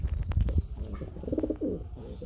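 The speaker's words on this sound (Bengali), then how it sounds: "আমরা একদম রেসার কবুতর দেখতে পাচ্ছি গ্রে কালারের মধ্যে না ভাই?" Grey racing pigeons at a pigeon sale coo repeatedly in low, throaty bursts close by, several birds overlapping with faint chirps and rustling, with no talk over them.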